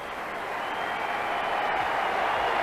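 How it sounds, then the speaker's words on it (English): Warm applause from the MCG cricket crowd at the 1983 India vs Pakistan match, saluting Srikant's fifty; a steady, dense wash of clapping that holds evenly for the whole stretch with no voices standing out. "a warm ovation for him from this MCG crowd"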